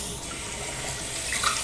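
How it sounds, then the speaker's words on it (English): Cool tap water running steadily from a faucet into a sink for a face rinse after a shave with a Wilkinson Sword Classic razor, a continuous close hiss with slight splashing, no talking. "Bit of a cool water rinse at the end"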